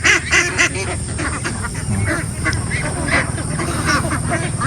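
Farm-raised ducks calling in a steady chorus of quacks and honks, fairly loud and continuous throughout, with birds sounding close by against a busy outdoor background.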